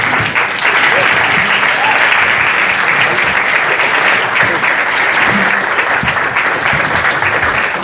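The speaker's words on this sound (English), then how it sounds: "Let's give a warm round of applause to Bevan and Ducasse." Audience applause at a Startup Grind Cape Town event welcoming Bevan Ducasse of WiGroup, a dense, steady clapping from a large crowd that stays loud and continuous throughout without a break.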